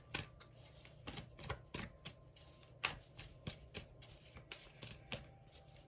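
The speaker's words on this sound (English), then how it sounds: "and I'm shuffling. I'm going to shuffle two." Playing cards being shuffled in repeated quick riffles and snaps, close and fairly quiet, with no voices.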